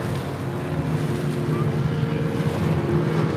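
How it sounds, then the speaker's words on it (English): A small Argo racing boat driven by a 90 horsepower Yamaha outboard motor drones steadily and loud throughout, with wind buffeting the microphone and water noise mixed in. "we've got a little Argo there with a 90 horsepower Yamaha on the back"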